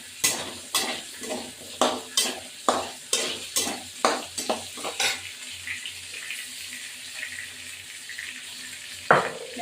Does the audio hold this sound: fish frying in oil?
yes